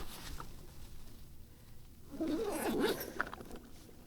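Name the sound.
plastic Ziploc bag being handled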